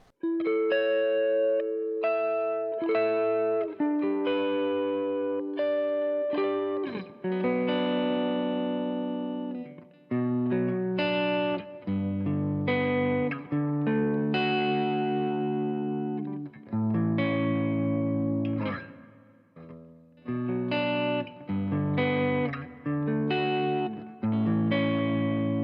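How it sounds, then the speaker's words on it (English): An electric guitar plays through a Walrus Audio Fundamental Reverb pedal on a worship pedalboard. Sustained chords and picked notes ring with long, washy tails, loud and alone with no talking. "Let's move on to Walrus Audio Fundamental Reverb."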